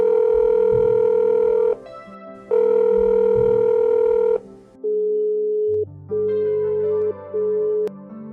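Outgoing video call ringback tone in an Assamese short film, a steady electronic tone sounding in repeated on-off bursts, loud and alone with no talking.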